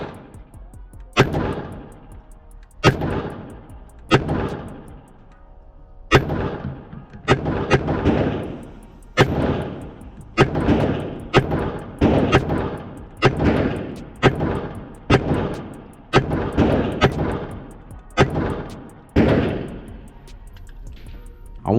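A Canik Mete MC9LS 9mm pistol firing about sixteen sharp, loud shots in an irregular but fairly quick rhythm, each crack leaving a brief echoing tail, with no talking.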